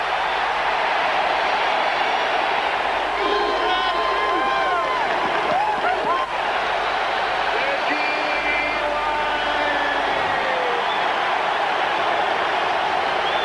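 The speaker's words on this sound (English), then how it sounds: "listen to this crowd" Football stadium crowd at a 1993 Broncos–Packers game roars loudly and continuously after a quarterback sack, a broad wash of noise with commentators talking over it.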